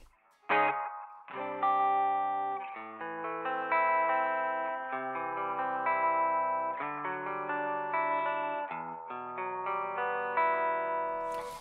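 A melodic line of sustained synth-like notes runs through the Speaker Far preset of an Arturia delay plugin, with echoing repeats and a distorted, chorused tone, playing continuously for about eleven seconds with no talking.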